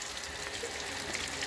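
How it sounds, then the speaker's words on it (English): Water gurgles down a pipe feeding a small turbine, too weak a flow to spin it; a steady, soft broadband wash of trickling and splashing continues throughout at close range, with no voices. "So it's just kind of gurgling down."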